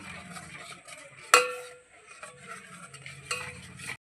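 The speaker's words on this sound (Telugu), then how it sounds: "దీన్ని అయితే వెంటనే కలుపుకోవాలండి లేదంటే ముద్ద కట్టేస్తుంది" A spoon stirs a vanilla ice cream mixture as custard powder is mixed in, with soft scraping strokes and two sharp clinks against the pot, close and fairly quiet.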